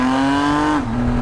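A Triumph Tiger 800 motorcycle with a slipping, worn clutch gives a loud, close, steady engine drone whose pitch suddenly drops and wavers near the end, heard alone.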